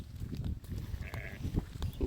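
Sheep being led to fresh grazing bleat faintly and briefly at a moderate distance, mixed with low rustling and shuffling from the flock.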